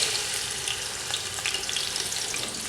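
Onions fry in hot oil in a pot, giving a dense, continuous close sizzle with small crackling pops and no speech.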